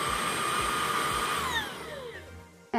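Dreame V11 cordless vacuum cleaner on its medium power setting, a steady, loud high-pitched whine and airflow roar that holds for a couple of seconds, then winds down and cuts off.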